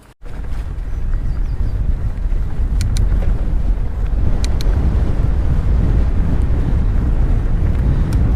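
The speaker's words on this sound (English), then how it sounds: "Quite a blowy day today. I don't know whether it's picking up on the GoPro." Strong wind buffeting a GoPro camera during a mountain bike ride on a blowy day, a loud, continuous low rumble of wind noise with a few faint clicks, no talk.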